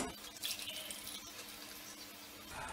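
White sugar syrup pours through a strainer in a home kitchen, giving a steady close-up trickle and splash of liquid that runs continuously from start to finish.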